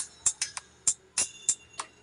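Music played through a small speaker wired with a series bulb: a thin, tinny beat of sharp clicking percussive hits in an irregular rhythm over a faint tonal backdrop, moderately quiet with no talk.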